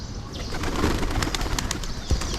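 Pigeons fed in the morning coo and flutter close by, a continuous bird chatter with short bright calls and one sharp knock near the end, no voices.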